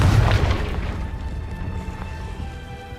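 A Confringo blasting spell going off in Hogwarts Legacy: a heavy low boom at the start that rolls off into a fading, rumbling tail, with no talk.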